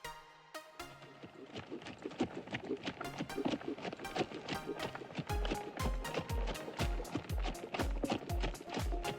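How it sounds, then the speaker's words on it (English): A horse-drawn cart rolls along to a steady, fast clip-clop of hooves on a hard surface, the rhythm holding evenly from start to finish over a rattling background. "Horse cart."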